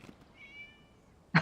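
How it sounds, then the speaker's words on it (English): A cat in a video game lets out a single faint, drawn-out meow, thin and high, followed by a short louder thump at the end. "It was just a cat."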